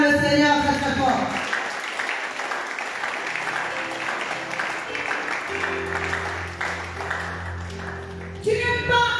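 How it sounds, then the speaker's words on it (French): A church congregation bursts into loud, sustained applause and cheering for the Lord, with voices over the clapping and music swelling beneath as it fades. "Acclame le Seigneur très très fort"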